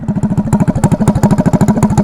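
A Honda Ruckus scooter with a GY6 engine and open header pipe putters loudly up close with a rapid, raw, popping exhaust beat, no muffler, steady throughout.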